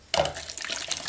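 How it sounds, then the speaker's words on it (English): Water splashes and gurgles into a cup from a tap, starting abruptly and running steadily for about a second, close and clear with no talk. "what you want to do is you want to have a cup, fill it up with water"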